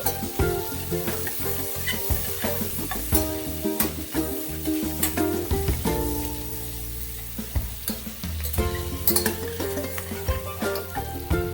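Onions fry in hot oil and are stirred until golden, producing a dense, constant sizzle with occasional stirring scrapes, mixed with background music.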